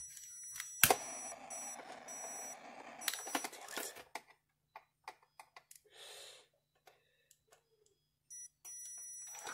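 A Sunbeam quartz heater beeps in short, faint bursts spread irregularly across a quiet room, with scattered clicks and brief rustling between them.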